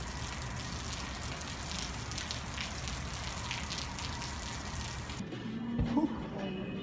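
Rain falling outside on a Sunday in San Antonio, a steady hiss of drops on surfaces that cuts off abruptly near the end, leaving a quieter room with faint noises.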